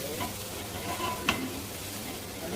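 Onions frying in a pot for chicken dum biryani, a steady close sizzle with a single stirring scrape partway through, no talk.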